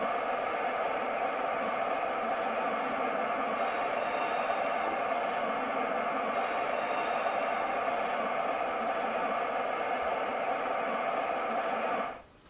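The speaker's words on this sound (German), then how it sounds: "Ein Bahnhofsumgebungsgeräusch." Station ambience plays from the sound module of a Märklin Spur 1 model V 320 diesel locomotive: a steady, dense murmur of distant station noise with faint clinks runs for about twelve seconds before cutting off abruptly.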